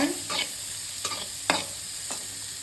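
Two large onions fry in a pan for butter chicken gravy, giving a soft, low sizzle broken by several short scraping bursts as the spatula stirs them.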